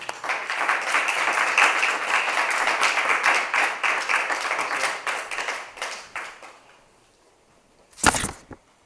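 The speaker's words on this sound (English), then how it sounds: "give a long, good applause for Chris and Jim." An audience at a Kansas City Oasis talk gives a warm round of clapping for two presenters. The applause is sustained and dense for about six seconds before fading out, followed by a single sharp knock.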